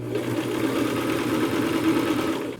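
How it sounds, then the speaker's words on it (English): A sewing machine stitching seat cushion fabric runs with a steady, continuous motor hum and rapid needle chatter, close and fairly loud throughout. "I'm going to sew all the way to the front"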